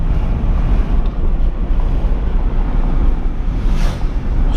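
Steady, loud wind and road roar fills a 1997 Acura NSX with 43,000 original miles as it cruises, a constant broadband rush with no voices.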